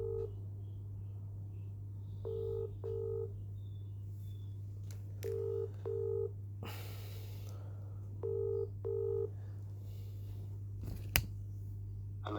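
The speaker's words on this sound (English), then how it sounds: "Ring up Jonathan Smith." Touch-tone telephone keypad dialing a call to Jonathan Smith at DWF Law: pairs of short DTMF beeps in spaced groups over a steady hum, with a few faint clicks between presses.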